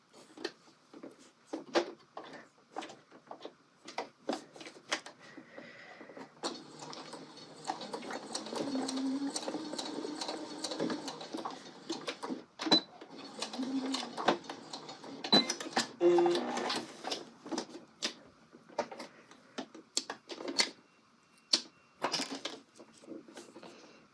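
Home sewing machine stitching a zippered welt pocket on a colorblocked coat, running in several bursts of varying length with brief pauses and handling noises between runs, fairly close and moderately loud, no talking.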